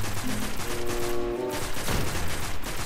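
Rapid bursts of gunfire from the video game Destiny fill the space, a dense fusillade of shots layered with game effects and a tonal whine midway, steady and loud throughout.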